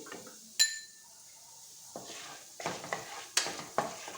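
Ingredients for moringa leaf powder being dry-fried in a pan, a quiet scene broken by a sharp metallic clink, then rhythmic stirring scrapes and light clatter with a soft sizzle underneath.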